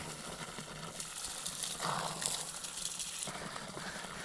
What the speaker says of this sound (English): We're going to go ahead and fill up our pot until the water is over the top of the skull